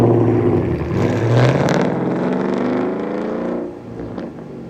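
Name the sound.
Ford Mustang GT exhaust with muffler and resonator delete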